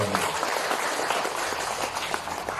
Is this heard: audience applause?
yes